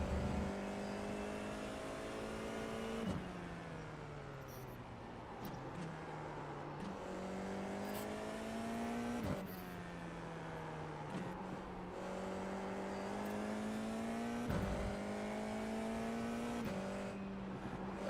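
An F4 race car at the Okayama circuit in a racing video game, its engine steadily revving up through the gears and dropping at each shift, loud and continuous with a few brief downshifts and no talk.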